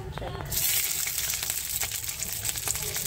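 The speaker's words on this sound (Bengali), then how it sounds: "তা চলো এই যে একটু রসুন নিয়ে নিয়েছি, রসুনটা একটু হালকা ভেজে নেব।" Garlic frying in a pan bursts into loud sizzling as it hits the oil, then keeps up a bright, crackling hiss with small pops, preceded by a quieter moment of kitchen noise.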